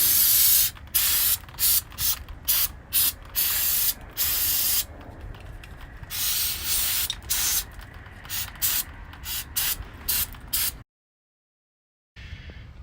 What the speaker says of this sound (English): brake cleaner, just trying to get all the dust and corrosion from around these parts while I break them loose